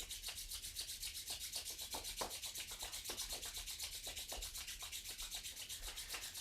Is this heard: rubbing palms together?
yes